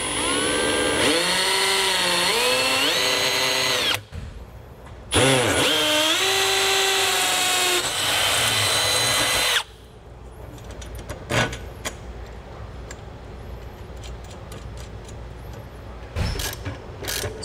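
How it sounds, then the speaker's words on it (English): A power drill whines loudly with shifting pitch in two bursts through a metal RV ladder and hinge, broken by a short pause, followed by quieter clanks and handling noises. "we're just going to drill right through our ladder as well as our hinge"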